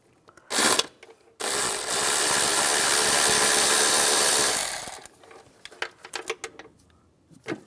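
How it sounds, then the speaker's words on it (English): A T30 socket on a ratchet or power driver works out intake manifold bolts on a 2004-2010 BMW X3, a short burst then a sustained loud whirring run of about three and a half seconds, followed by scattered clicks and knocks. "You're going to use a T30 socket to take those bolts out."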